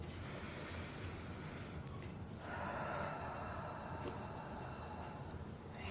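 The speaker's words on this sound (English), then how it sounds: "taking a nice deep breath in and out" A slow, deep breath drawn in and let out during a guided throat chakra healing meditation, a soft airy inhale swelling into a steady exhale, close and continuous over a low background hum.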